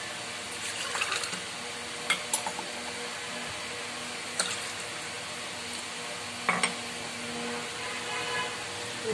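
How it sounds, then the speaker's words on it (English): Water is poured from a glass into a rice cooker bowl holding rice, a steady close rushing fill running throughout with a few brief clinks. "Add 3 glasses of water into it."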